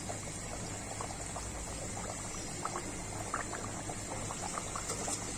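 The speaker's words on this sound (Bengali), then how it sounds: "গরম তেলের মধ্যে পুরি ছেড়ে দিলাম।" Small puris dropped into hot oil for deep-frying, giving a steady, dense bubbling sizzle that stays even throughout with a few brighter crackles, close and fairly quiet, with no talking.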